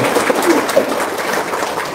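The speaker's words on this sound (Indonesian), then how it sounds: "Tepuk tangan dong." Audience applause at a motivational talk, a steady wash of many hands clapping fairly loud and close, with a few voices briefly mixed in.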